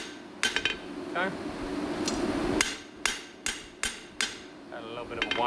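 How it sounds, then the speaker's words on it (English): Hammer blows on steel during blacksmith spreading work, sharp ringing metallic strikes in an irregular series, several loud ones close together near the end, with a faint voice under them. "Got a little bit of a wily hammer blow there."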